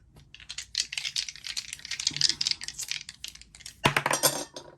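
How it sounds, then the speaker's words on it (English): Tarot cards shuffle close up in a rapid run of dry riffling clicks and flutters, pausing briefly before a final sharper burst of card snaps. "I ain't even finished shuffling the cards"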